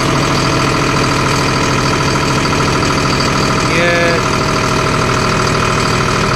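A John Deere CRDI tractor engine with a fault revs at full RPM, producing a loud, steady mechanical drone with a brief rising whine near the middle and no speech.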